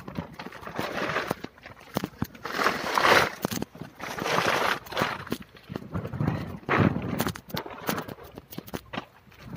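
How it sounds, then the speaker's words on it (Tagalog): Horse hooves clip-clop on a muddy, landslide-hit path, a series of close, uneven thuds and splats in bursts throughout, with no voices heard. "Kabayo nga ginagamit dito."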